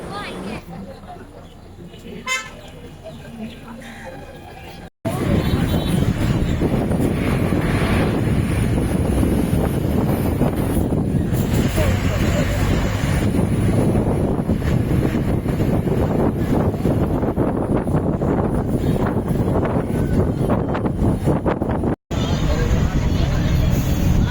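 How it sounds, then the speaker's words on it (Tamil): Strong wind roars into the microphone aboard a TNSTC bus on the coastal ECR road near the Gulf of Mannar. The rumbling buffeting is loud and nearly constant for the whole stretch, with someone talking through it. "கிளைமேட்டு காற்றும் பலமாக அடிக்குது"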